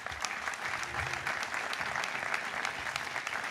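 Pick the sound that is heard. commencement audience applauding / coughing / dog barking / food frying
commencement audience applauding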